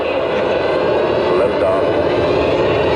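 A pulling tractor's engine roars at the start of a run at the 2021 Sublimity Harvest Festival tractor pull, a loud, dense, unbroken blast that holds steady for the full three seconds.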